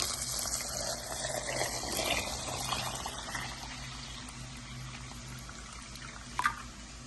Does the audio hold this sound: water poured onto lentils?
yes